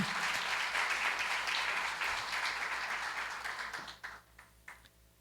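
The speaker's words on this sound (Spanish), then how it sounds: "les damos a todos un fuerte aplauso de bienvenida" A gathering in Mérida gives a hearty welcome applause, many hands clapping loudly and densely before tapering off into scattered last claps near the end.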